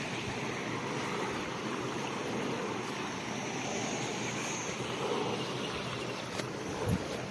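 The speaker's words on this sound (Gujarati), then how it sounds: "મસ્ત છે ને એકદમ જોરદાર નદી" A flooded river after very heavy rain in Kutch rushes strongly past, a dense, constant roar of flowing water with a few faint knocks near the end.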